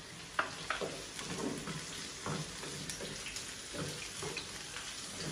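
Onions and chickpeas fry in a pan for a home-cooked Ramadan iftar meal, giving a steady, moderately quiet sizzle with occasional stirring scrapes and small pops throughout, with no speech.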